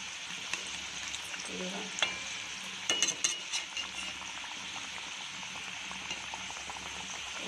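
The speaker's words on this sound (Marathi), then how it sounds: "अशा प्रकारे आपले वडे जे आहेत तळून ऑलमोस्ट रेडी झालेले आहेत" Bread vadas deep frying in hot oil, a soft steady bubbling sizzle with a cluster of sharp crackles and spatters around the middle, fairly quiet overall.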